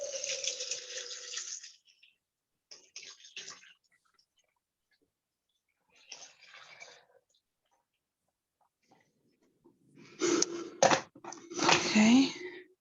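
Hot water is poured into a basin for a foot detox bath in short splashing bursts separated by silence, ending in a louder, fuller stretch of pouring and sloshing.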